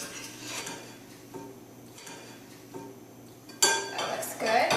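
Sliced apples being tossed with sugar and spices in a bowl for an apple pie: soft clinks and scrapes of a utensil against the bowl, a louder clatter near the end.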